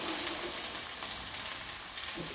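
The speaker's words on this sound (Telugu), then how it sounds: "బెండకాయలకు కూడా సిమ్లో పెట్టి నెమ్మదిగా వేపుకోవాలి" Okra fries slowly in a pan on a low flame with a soft, continuous sizzle, close and unbroken, with no talking.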